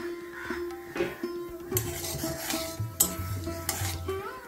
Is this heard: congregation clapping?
no